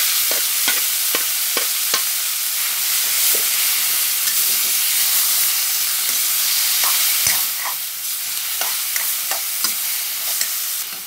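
Boiled mixed greens frying in a pan with browned onion and garlic, a bright close sizzle broken by repeated sharp scrapes and taps of a spatula stirring against the pan.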